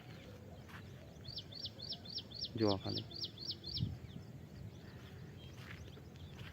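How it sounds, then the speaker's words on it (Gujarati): Small birds such as sparrows, along with parrots and peacocks, call around a farm field, with a run of quick high chirps and a few short calls sounding faint under nearby talk and low background rumble. "ચકલીઓ ને પોપટ ને મોર ને એવા જ અવાજ, મસ્ત મસ્ત અવાજ વપરાતા હોય"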